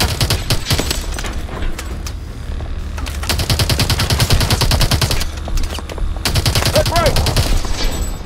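Rapid automatic gunfire bursts in the futuristic shooter Call of Duty Advanced Warfare, loud dense rattling volleys with short pauses between strings, booming low-end impacts and battle noise throughout.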